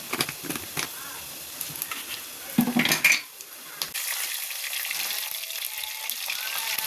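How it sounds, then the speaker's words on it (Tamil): Vadagam, including onion vadagam and seasoning vadagam, frying in sesame oil in a clay pot, with a loud close crackling sizzle, a burst of louder spattering and utensil clatter partway through, then a steadier hiss. "சட்டியை வச்சு வடகம், வெங்காய வடகம், தாளிப்பு வடகம் போட்டிருக்கோம்."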